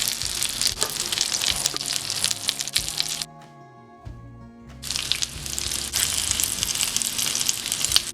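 Chicken malai seekh kebabs sizzle loudly on a grill, a steady crackling hiss that drops away briefly in the middle and then returns at full strength.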